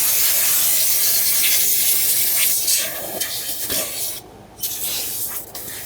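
Cleaner sprayed around the fuel pump module area of a 2012-2019 Fiat 500 with a 1.4L engine, heard as a loud, steady hiss that fades and returns in shorter bursts toward the end.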